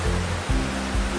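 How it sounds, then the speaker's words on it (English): Clarified water rushes through filter beds in a water treatment plant, a loud, steady broadband roar with a low rumbling undertone and slight surges. "Clarified water then flows through filter beds."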